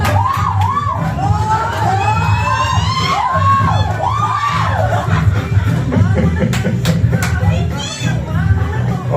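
Supporters at a monthly sales award ceremony scream, whoop and cheer in loud, high, wavering bursts, a dense crowd din filling the whole stretch with talk mixed in.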